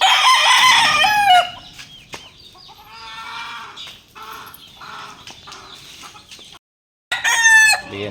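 Black McRae gamefowl crowing loudly up close with harsh, stretched calls and scattered clucks, a brief pause, then another strong crow at the end.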